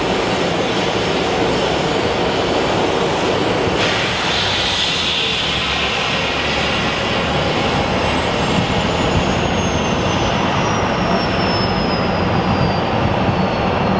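Jet engines of a Southwest Boeing 737 MAX at Phoenix Sky Harbor airport roar loudly and continuously, with a high whine that slides down in pitch as the engines spool, dense and close throughout.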